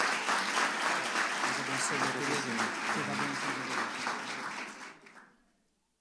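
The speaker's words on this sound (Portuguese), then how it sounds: "Você pode aplaudir a Jesus pela vida do pastor Henrique Santana? Mais forte." A large church congregation applauding loudly and continuously, sustained clapping that fills the room before quickly fading out.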